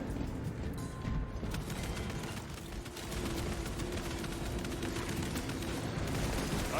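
Bolt rifle fire from Space Marine 2 forms a dense, steady clatter of rapid shots mixed with heavy battle noise, continuous and loud throughout with no clear pauses.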